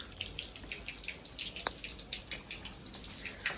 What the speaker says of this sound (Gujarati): ગરમ પાણીવાળું પૂલ ભરાવાનું ચાલુ થઈ ગયું છે